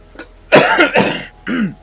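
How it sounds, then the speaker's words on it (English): Several harsh coughs close by from a person recovering from COVID, a short burst followed by two more, then a final rougher cough after a brief pause. "I'm recently recovering from COVID, so I still got the cough."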